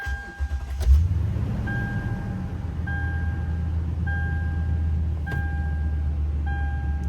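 A Toyota Tundra engine cranks and catches just after an oil change, then settles into a low, steady idle while a warning chime repeats at regular intervals.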